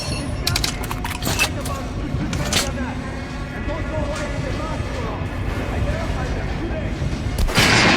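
Gunfire in Metro: Last Light Redux as shots pour into armored enemies, heard as dense, loud bursts of repeated shots and impacts over a constant rumble of game noise, swelling again near the end.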